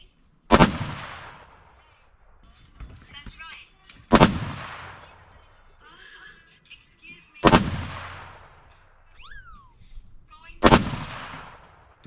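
Four loud, sharp rifle gunshots go off at even intervals of roughly three seconds. Each crack rings out in a long decaying echo across an outdoor range, and faint movement and handling sounds fill the gaps between shots.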